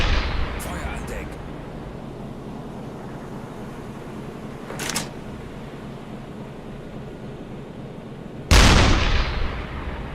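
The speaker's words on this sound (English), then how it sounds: "we're reduced to the deck gun" A U-boat deck gun in a full-realism WWII submarine game fires two distant booming shots, then one loud close blast that decays over several seconds, all over a steady rumble of sea and engine noise.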